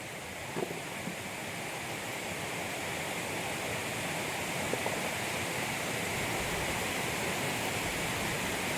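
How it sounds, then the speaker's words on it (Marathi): Rain pours steadily onto a farm plot in the Konkan, a dense unbroken hiss that stays even and fairly loud throughout, with no other clear sounds. "पावसाचं पाणी पडतंय बघा"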